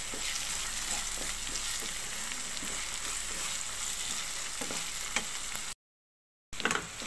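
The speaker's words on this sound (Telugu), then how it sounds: "అల్లం వెల్లుల్లి పేస్ట్ వేసుకుని దీన్ని బాగా వేగనిద్దాం" Ginger garlic paste frying in a pan while a cashew curry is being made, a steady close sizzle with faint stirring scrapes, cutting out briefly near the end.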